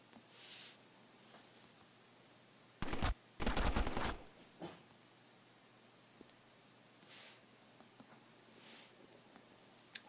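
Plasma gun firing in the mobile video game Hunters 2, two short bursts of rapid shots close together, set in a quiet, low background with a few faint ticks and clicks.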